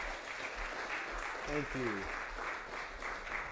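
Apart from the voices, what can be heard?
audience applause for performing artist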